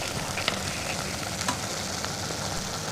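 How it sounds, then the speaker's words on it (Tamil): Coconut oil heating in a pan gives a steady, close frying sizzle with a constant broadband hiss and a few faint crackles and pops, no voices over it. "இப்போ முதல்ல தேங்காய் எண்ணெய் விடுறோம் சூடாக"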